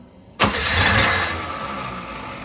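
A Chevy 305 V8 fitted with a 2-stroke dirtbike carburetor cranks and catches with a sudden loud burst, then drones on roughly and unevenly for a couple of seconds, close up with no talking.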